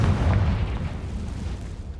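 A Confringo fire spell bursts in the Hogwarts Legacy video game, giving a deep, rumbling blast that rolls on steadily for about two seconds, loud and close with no talk.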